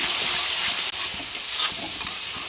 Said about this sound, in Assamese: এইখিনি দি অলপ ভাজি ল'ম